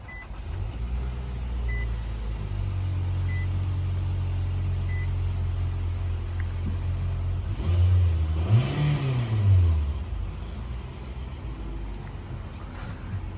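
A 2020 Nissan Altima SR fires up from its push-button start, a steady low engine rumble underneath before a brief rising surge and settling idle, close and moderately loud with no talking.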